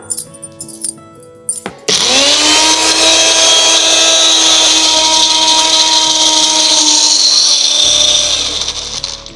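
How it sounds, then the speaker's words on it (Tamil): A mixer grinder whirs loudly as it grinds siru pasarai greens with butter and a little water into a smooth paste, starting abruptly after a few clatters and running steady at high speed. "இந்த சிறுபசரை கீரையை நல்லா வெண்ணெய் போல் அரைச்சிடணும்"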